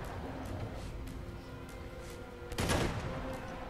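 Gunfire in the video game Uncharted 2 plays as a faint, continuous crackle of rapid shots in the background, with one louder burst near the end.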